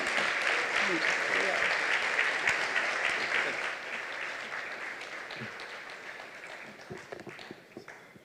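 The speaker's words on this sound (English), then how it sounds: "give you a resounding round of applause" A crowd claps steadily in sustained applause for a guest speaker at a charity event, slowly thinning toward the end, with no speech over it.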